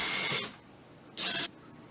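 Two short bursts of a power drill boring a hole into an oak drawer board, one at the start and another a moment later, close and fairly loud with quiet gaps between.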